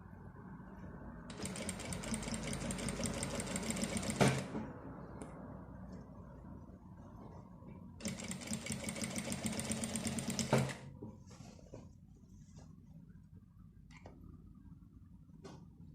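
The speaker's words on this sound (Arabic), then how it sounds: "ونبدا نخيط" A sewing machine sews a neck facing in two close, steady runs of rapid stitching, each about three seconds long and ending in a sharp click, with quiet handling noise between and after.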